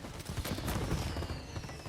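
Tommy gun fire in Mafia Definitive Edition, a rapid, fairly quiet burst of automatic shots rattling steadily through the whole moment with no voices.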